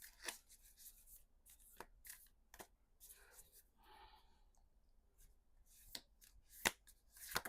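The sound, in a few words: shuffling a tarot card deck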